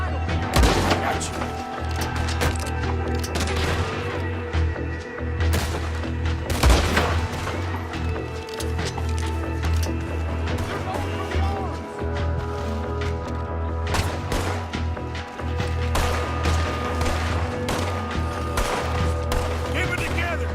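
Bursts of gunfire and booming explosions over a dense rumbling battle soundscape in the video game Red Dead Redemption 2, loud and continuous, with scattered voices mixed in.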